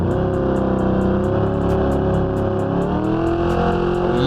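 A small block V8 revving in BeamNG Drive during a no-prep drag racing session, a loud, sustained engine drone with the pitch climbing and holding steady, accompanied by a rapid ticking pulse.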